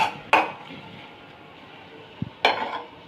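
Jute leaves are stirred in a metal pot and a lid is set on, making two sharp metallic clinks about two seconds apart with a soft bump just before the second, and quiet stirring between.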